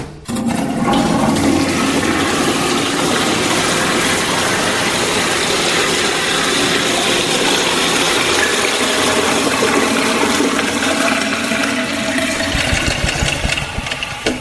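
A household toilet flushes with a loud, sustained rush of water lasting over ten seconds, steady and close, with mechanical gurgling before it tapers off at the end.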